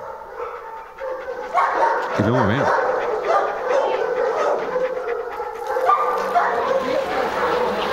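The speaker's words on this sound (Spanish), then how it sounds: "está el jadeo del perro y los demás vienen flotando" Dog panting and barking from film sound design plays in a continuous, busy layer of close breathing and yips, with a short whimper-like tone partway through. Someone speaks briefly over it.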